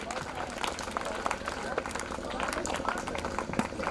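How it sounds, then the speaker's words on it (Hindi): Audience applause and crowd noise at a school annual fest, a steady wash of clapping mixed with murmuring voices throughout. "एक बार जोरदार तालियां हो जाए।"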